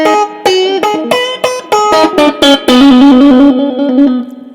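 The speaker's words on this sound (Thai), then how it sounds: "ถ้าเราปิดพีเซนต์เนี่ยเสียงมันจะไปเสียงอ้วนๆอย่างนี้" An electric guitar through a Fender Japan amp with presence switched off, volume around 7 and no reverb, plays a loud, thick, warm run of sustained picked notes and chords, close and alone.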